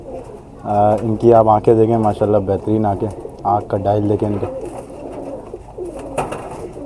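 Fakir Gul pigeons coo in repeated rhythmic, throaty phrases close by, while someone talks over and between the calls.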